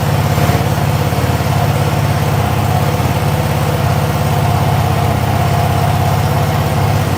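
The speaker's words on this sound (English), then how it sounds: "So that's how loud the V2 is on a cold start." A Yamaha V2 motorcycle engine idles loudly after a cold start, a close, steady low rumble with a fast even pulse that holds throughout.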